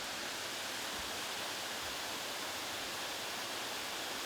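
Water courses through a canal leading to a hydroelectric turbine plant, making a continuous even rush like a waterfall, filling the clip with no voices.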